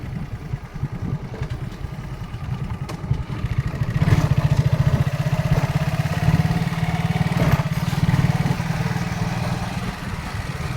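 A motorcycle ridden along a road near Gajji station, its engine droning steadily with a rattling, throbbing low rumble that swells louder after the first few seconds and holds, with wind buffeting and no talk.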